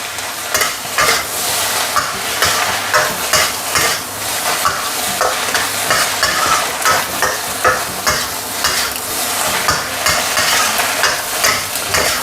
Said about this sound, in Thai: จากนั้นก็เปิดไฟแรงนะครับ คั่วไปเรื่อยๆนะครับ